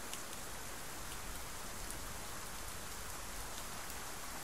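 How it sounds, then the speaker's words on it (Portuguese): Steady rain falling in the DCS World 2.5.0 flight simulator, a dense, even hiss of drops on surfaces that stays constant throughout, with no voices. "tá chovendo"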